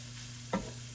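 A spoon stirs flour and garlic powder into hot pan contents for shepherd's pie, giving one short, close scrape-and-sizzle burst over steady background hum.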